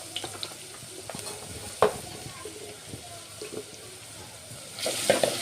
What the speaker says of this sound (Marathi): कलर येईपर्यंत थोडा, फक्त कच्चेपणा जाईपर्यंत अदरक लसूण शिजू द्यायचं आपल्याला।